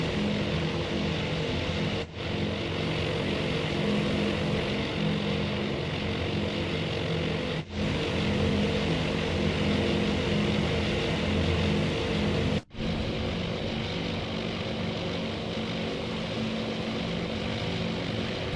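Engines of WWII bombers in the Task Force Admiral naval war game, a steady loud droning rumble that holds throughout, broken by three brief near-silent cuts.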